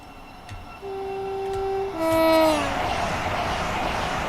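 A Class 387 electric train in Train Simulator sounds a tonal horn and passes through a station on the East Coast Main Line, the pitch sliding as it goes by, followed by a rushing broadband roar.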